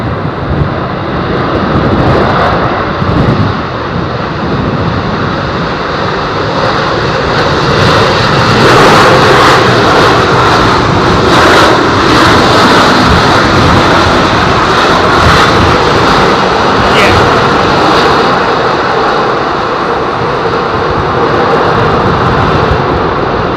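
A loud airliner landing in strong wind at London Heathrow, its engine roar swelling and holding steady as it passes close by.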